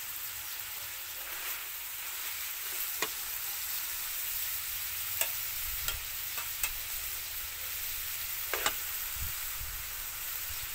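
Khi lek leaves are stirred into a pot of curry, with a steady soft sizzle and bubbling and a few sharp clinks as the utensil hits the pot, close and fairly quiet, with no talking.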